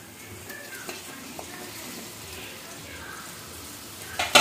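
Chopped tomatoes hit a pan of well-fried ginger garlic paste, a steady oily sizzle with soft stirring scrapes and a few light clicks, ending in a louder clatter.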